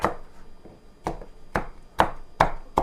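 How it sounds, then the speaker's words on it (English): A knife chopping onions for a wild yam casserole, about six sharp, evenly spaced thuds on a cutting board, close and crisp with a quiet background. "when I'm chopping the onions"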